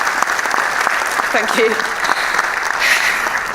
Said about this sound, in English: Could I get a giant round of applause for inspirational women?